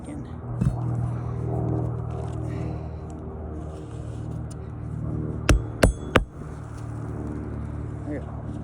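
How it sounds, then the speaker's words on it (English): A hammer drives a nail back into a roof shingle with three sharp, close strikes in quick succession, set against a steady low hum of traffic or engine noise. "Make sure we'll hammer that one back in."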